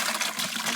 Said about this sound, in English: We better go see if he's pouring water down.